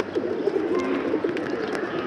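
Pigeons coo in soft, repeated throaty calls, close by in a loft in the midday sun, with faint background rustle and a few short higher chirps.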